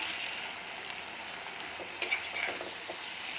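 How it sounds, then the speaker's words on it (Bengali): Fenugreek greens sizzling in a hot pan, a steady soft frying hiss with a few light scrapes and clinks as they are stirred, fairly quiet throughout. "দেখুন শাকটা নাড়াচাড়া করে নিয়েছি"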